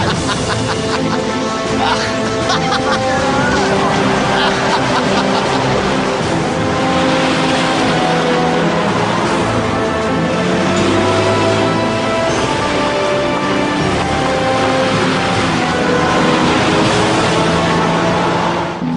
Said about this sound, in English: They can't wait to take this wood-burning beauty for a spin.